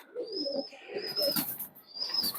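A pair of Kamagar high-flying pigeons coos in low, rolling phrases, close by, with some higher chirps and bird calls overlapping and no talking.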